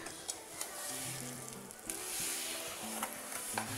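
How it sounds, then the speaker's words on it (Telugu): A sweet urad dal mixture with jaggery is stirred over heat, giving a continuous close sizzle with repeated scraping strokes at irregular intervals and no speech. "మొత్తం అనేతిలో కలిసేలాగా తిప్పుకోవాలి ఆ వేడి మీద"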